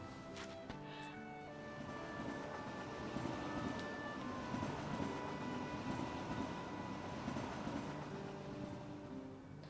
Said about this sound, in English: Are they listening to, like, train tracks go by, or is that the train?